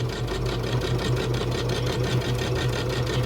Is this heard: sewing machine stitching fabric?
yes